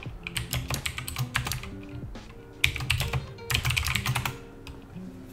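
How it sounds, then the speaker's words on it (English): Code being typed on a computer keyboard during a Python programming lesson, a steady run of quick close key clicks in bursts with brief pauses, heard alone without talk. "These commands that I'm typing out"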